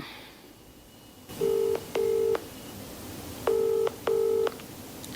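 Telephone keypad tones as a call is dialed: four short, clear beeps in two pairs over a faint hiss, each a steady electronic tone.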